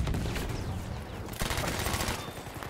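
Dense, continuous Battlefield 1 gunfire rattles close and loud, overlapping rapid shots and bursts that fill the whole stretch.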